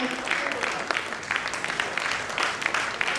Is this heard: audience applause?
yes